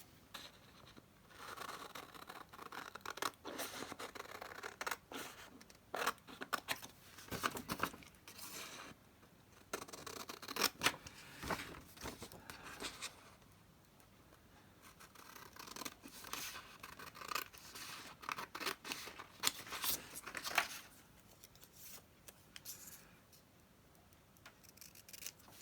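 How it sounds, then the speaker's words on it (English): Scissors cutting out a paper border, heard as bursts of close, crisp snipping and paper rustle spread over the span with quieter pauses between. "I could cut out that little border there"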